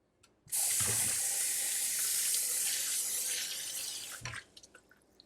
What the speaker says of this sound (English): And I'm going to fill this up with some water.